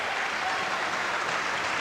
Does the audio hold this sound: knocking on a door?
no